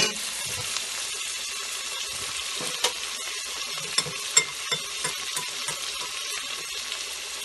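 Food for a quick Indian curry frying in a pan while it is stirred continually, giving a steady sizzle broken by sharp utensil scrapes and clinks, close by and with no talking.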